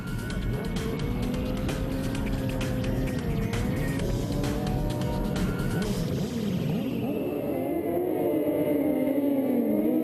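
At the start of a FIM Sidecar World Championship race at Rijeka, racing sidecar engines roar together at high revs on a loud, continuous pitch that sweeps upward, then fades toward the end.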